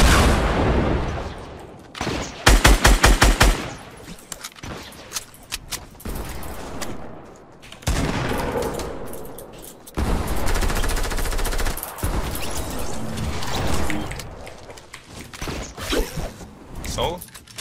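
Rapid automatic gunfire bursts and single shots from a Fortnite Battle Royale firefight, loud and repeated across the whole stretch, with a player's voice talking over parts of the exchange.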